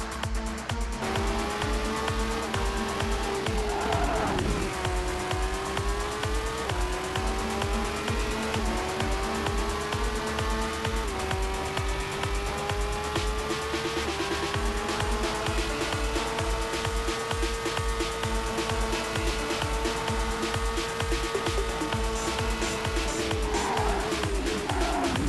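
Race car driving laps in the Monoposto racing game, a continuous loud engine whine rising and dropping through gear changes, with occasional tire squeal, steady throughout with no talk.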